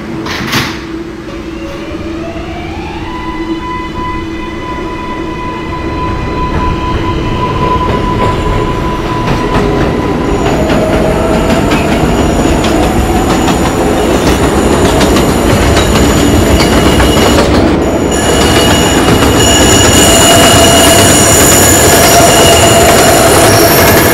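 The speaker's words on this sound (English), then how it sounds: "Watts Avenue bound 2 train." A New York IRT 2 subway train rolls loudly along the mainline, motor whine rising in pitch as it accelerates, steel wheels squealing and clattering over rail joints, growing louder toward the end.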